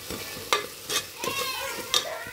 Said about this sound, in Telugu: వేసుకున్న తర్వాత మనం ఇప్పుడు మొత్తం కలుపుకోవాలి.